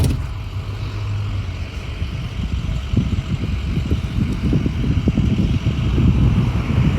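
A 2004 Ford F-250 Lariat with a 6.0L Powerstroke diesel V8 runs at idle, a loud, steady low rumble with a rough diesel clatter that grows slightly louder over seven seconds, with no talking.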